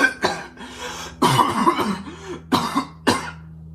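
A person coughs several times close to the microphone: separate harsh bursts with brief pauses between them, loud against a quiet room.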